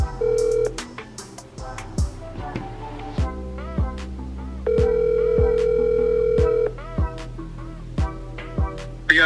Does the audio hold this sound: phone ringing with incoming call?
yes